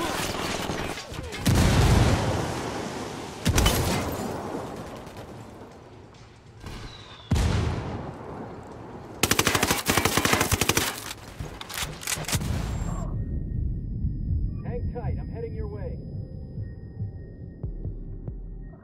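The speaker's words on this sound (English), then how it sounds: "Opening fire on these fuckers." Gunfire from Ghost Recon Wildlands, with loud bursts of automatic fire and explosions coming in clusters, then a quieter stretch of distant rumble.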